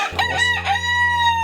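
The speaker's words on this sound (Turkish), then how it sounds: "Şimdi yine sürünün içindeyim ve horozlar, horozlar ötmeye başladı." A rooster crows loud and close from within a flock at a farm coop during morning opening, one full drawn-out call with clucking fowl around it.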